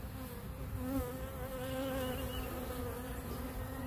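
A steady, close drone of many buzzing honeybees, continuous and fairly soft, with no voices.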